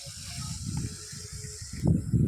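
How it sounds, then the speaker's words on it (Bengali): Water sprays with a steady hiss onto plants in a home vegetable garden after fertilising and loosening the soil, swelling to a louder, closer gush near the end. "তো গাছে এইমাত্র জল দেওয়া হচ্ছে।"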